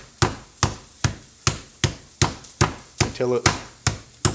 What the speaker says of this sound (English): you get a meat hammer and you beat it down